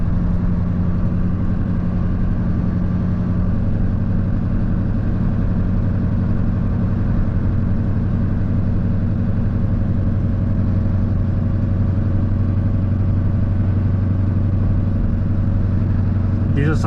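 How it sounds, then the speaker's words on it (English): A 2003 GMC Sierra 2500 Duramax diesel runs steadily from inside the cab, a loud, continuous low drone with an even clatter, unchanging across the whole stretch. "Diesel sounds good just clacking around too."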